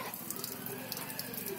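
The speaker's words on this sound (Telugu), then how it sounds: "బంద్ చేద్దునా, ట్యాప్ బంద్ చేద్దునా?" A tap runs with a steady, faint splashing stream, close by and alone, with no voices over it.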